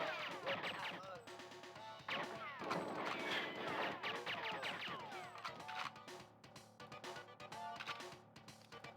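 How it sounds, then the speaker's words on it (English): Grenades and barrels explode in the video game GoldenEye 007 on a frigate level. Repeated crashing blasts and gunfire bursts come in a dense, uneven run over quieter game background sounds. "thwarted in this level by explosions, like just random grenades and things exploding"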